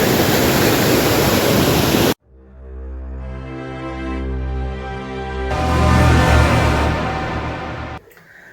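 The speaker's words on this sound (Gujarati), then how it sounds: "જો આ પાણી કેટલું જોરદાર જાય." Strong river water rushes beside a Hanuman temple at Tapovan, a loud, dense roar for about two seconds before it cuts abruptly to a different, humming tonal sound.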